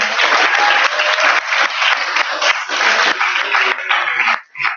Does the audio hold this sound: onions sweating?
no